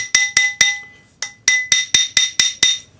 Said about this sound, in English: this will put hammer marks to match the hammer marks in your dome